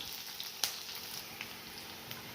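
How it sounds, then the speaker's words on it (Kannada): Onions frying in a pan for a ridge gourd and split dal gojju, a soft steady sizzle with faint crackles and one sharper pop, no voices. "ಇದನ್ನು ಫ್ರೈ ಮಾಡ್ಕೊಳ್ಳೋಣ."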